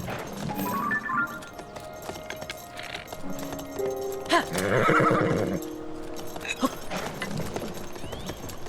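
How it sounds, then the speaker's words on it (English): A horse in Zelda Tears of the Kingdom clip-clops along and lets out loud whinnies, hoof steps clear and close, with a neigh burst near the middle and faint game ambience behind. "How do you get this dumbass horse down here?"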